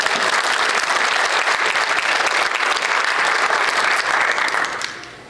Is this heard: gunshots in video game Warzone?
no